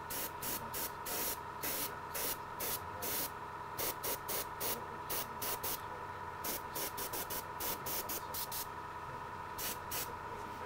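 A Reaper/Badger airbrush sprays paint on a miniature in steady hissing bursts, some short and some longer, close to the listener over a constant background hum.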